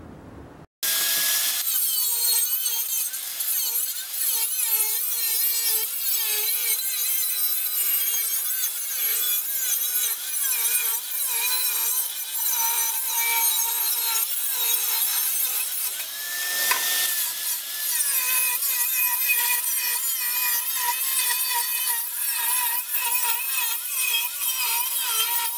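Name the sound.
cutting out steel pieces for expansion chamber cones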